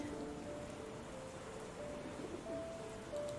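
Steady rain hisses softly and evenly across the whole stretch in the Sherlock Holmes The Awakened video game, faint and distant, with a quiet tonal hum beneath and no speech.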